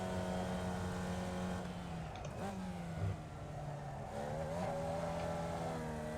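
A single-seater race car engine in the iRacing game drones at a steady pitch, briefly dropping during a gear change before climbing again, and is heard faintly with no voices.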